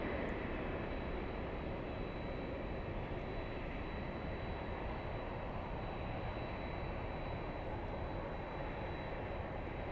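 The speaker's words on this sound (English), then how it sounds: "We have the Japanese 787 Dreamliner. This one flying in from Narita." A Japan Airlines Boeing 787 Dreamliner arriving from Narita at LAX gives a steady, fairly distant jet roar with a thin high whine, constant and unbroken throughout.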